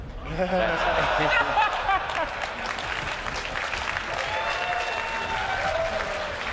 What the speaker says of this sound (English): I get applause for playing bad